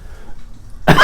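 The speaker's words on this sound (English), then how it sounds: "Sorry, I cough a lot" A single harsh cough rings out suddenly after near-silence, close and loud, alone with no talk around it.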